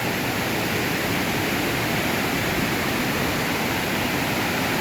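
Khoiyachora waterfall rushes in a dense, unbroken roar of falling water, loud and steady from start to finish with no voices.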